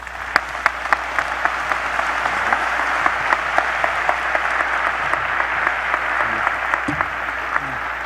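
A commencement audience applauds steadily to welcome speaker Stuart Crum, a dense, even wash of many hands clapping at moderate distance, sustained throughout with a few sharper claps standing out.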